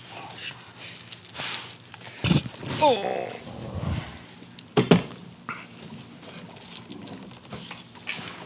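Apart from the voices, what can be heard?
dog whimpering and playing with squeaky toy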